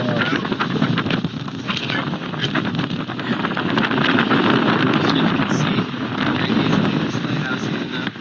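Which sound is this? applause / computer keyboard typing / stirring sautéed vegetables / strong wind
strong wind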